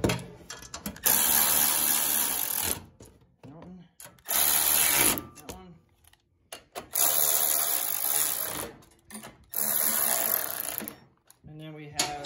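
A wrench tightens carburetor bolts on a Troy-Bilt 2410 snow thrower, giving several loud bursts of rapid mechanical ratcheting separated by short pauses, close to the microphone.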